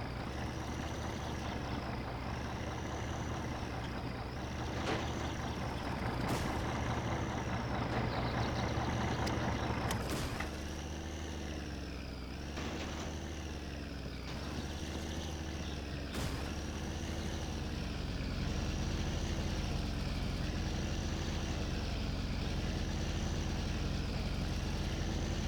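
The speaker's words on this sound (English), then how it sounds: "the noise is from the coach" A heavy coach engine in the video game My Summer Car drones continuously, its pitch gently wavering in a repeating cycle, with a few sharp clicks along the way.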